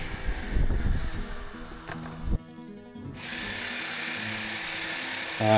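Power saw cuts wood pieces to length for electrical socket and light switch surrounds, a loud whining buzz that stops abruptly, then a lighter steady motor drone resumes.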